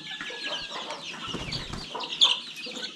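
Native village hens in a Konkan poultry yard cluck softly among their chicks, with faint scattered clucks and peeps and a slightly louder call near the end, all quiet and close by.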